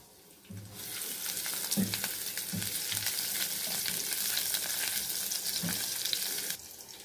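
Sizzling and frying in a pan while ribs with Tuscan sausage on onions cook for Sunday lunch: steady close hiss, with soft low knocks and stirring sounds throughout.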